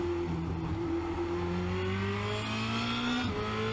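A Formula Renault 2.0 race car accelerates hard out of a turn at Spa-Francorchamps, its engine note climbing steadily in pitch as it pulls through the gears, loud and close throughout with a brief shift near the end.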